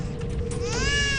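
A baby cries in a dramatized scene, starting as a faint whimper and swelling into a clear, wavering wail partway through over a low background murmur.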